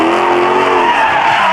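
Tires on a 2024 Dodge Charger squeal and skid as the car slides sideways, a loud, sustained, high screech over engine noise lasting a second and a half.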